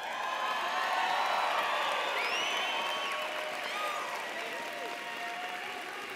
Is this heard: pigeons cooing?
no